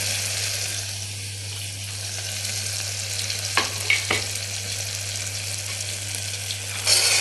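Onion, green chili and boiled chickpeas sauté in a pan for a kuzhambu, a constant close sizzling hiss with a couple of brief spoon scrapes near the middle and a clatter at the end, no speech.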